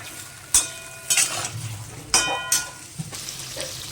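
Brinjal (eggplant) slices fry in a pan with salt and a little turmeric, giving a soft, steady sizzle broken by a few sharp clinks and scrapes of a spatula against the pan.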